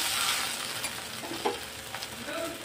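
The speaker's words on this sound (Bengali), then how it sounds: "ঢ্যাঁড়সগুলো দিয়ে আমি ভালো করে নেড়ে ছেড়ে একটু ভাজা ভাজা করে নেবো" Okra frying in a pan, giving a continuous soft sizzle with a few scraping stirs and light clinks, close and fairly quiet.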